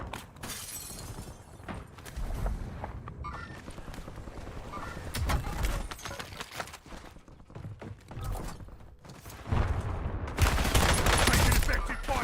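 Video game gunfire crackles in bursts and rapid volleys, some near and loud, others distant, with shattering impacts and radio-style voices talking between the shots.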